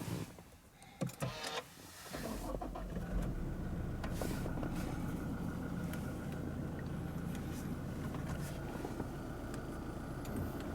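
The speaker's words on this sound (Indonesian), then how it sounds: "Oke, kita akan nyalain mesinnya." A Toyota Fortuner VRZ engine turning over and settling into a steady idle, heard from inside the cabin, a few clicks and a short burst before the even rumble.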